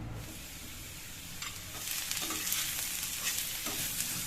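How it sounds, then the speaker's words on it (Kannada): Close sizzling of mushrooms frying in a pan, growing louder midway, with occasional scraping of a spatula stirring. "ನಾನು ಮುಂಚೆನೆ ಒಂದ್ಸರಿ ಫ್ರೈ ಮಾಡ್ಕೊಂಡ್ಬಿಡ್ತೀನಿ."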